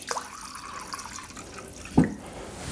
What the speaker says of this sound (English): In fact, I'm going to add more water.